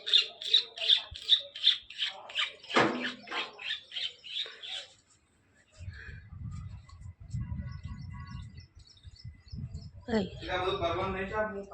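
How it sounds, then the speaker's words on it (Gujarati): Rapid, repeated high chirps from a sparrow, loud and close at the start, then low rumbling and a voice speaking, and chirping again near the end. "ચકલી આવી"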